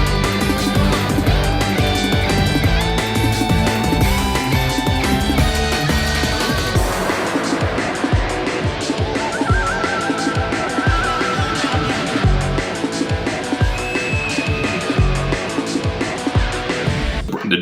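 Dragon Ball Raging Blast 2 video game intro set to the Tenkaichi 2 soundtrack, a dense, loud orchestral-rock music track with driving percussion, playing continuously without talk.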